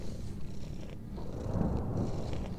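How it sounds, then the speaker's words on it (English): A resting cat purrs in a soft, continuous low rumble, close by and steady, with no talk over it. "There's a cat."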